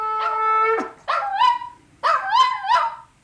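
A dog howls along nearby in three wavering, rising howl-and-yip phrases, each about a second long and separated by short pauses, following a steady sustained tone at the start.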